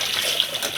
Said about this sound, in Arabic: يلا بينا نبتدي الفيديو ونغسل المواعين مع بعض